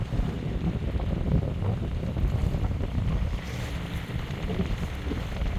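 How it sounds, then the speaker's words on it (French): An old sailing ship under engine power leaves Port-Navalo, heard as a steady low motor rumble mixed with wind buffeting the microphone and water noise, continuous and fairly close. "Voilà le vieux gréement sous moteur qui sort de Port-Navalo"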